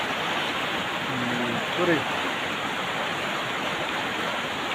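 Baguwa river stream flowing as a steady, loud broadband rush of water throughout, with a short bit of speech over it near the middle.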